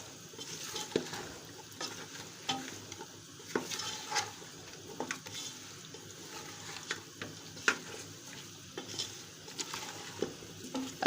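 Mutton and peas sizzle gently in a pot while a spoon stirs and scrapes through them in frequent irregular strokes, close and fairly quiet, with a steady frying hiss underneath.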